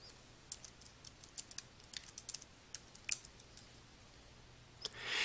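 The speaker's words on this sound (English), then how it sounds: "Then type a name for the button into the field name tag shown" Sparse, quiet keystrokes on a computer keyboard while a button name is entered in Adobe Acrobat XI, scattered clicks with short pauses and a brief louder burst near the end.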